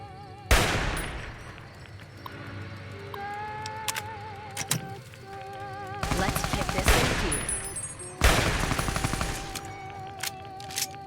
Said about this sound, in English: Turrets seem friendly, so they will probably shoot at the ghouls.